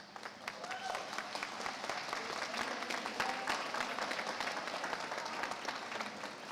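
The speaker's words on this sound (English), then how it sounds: "Face the audience, give your parents a round of applause." Applause from the audience at a military academy graduation ceremony, a fairly quiet, steady patter of many hands clapping that builds slightly and continues throughout.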